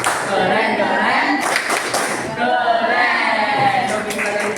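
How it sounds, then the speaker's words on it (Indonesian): A classroom of schoolchildren performs a rhythmic group clap cheer for a presenting group, steady loud clapping mixed with chanting voices throughout. "silakan kembali kita beri tepuk keren untuk kelompok Azer"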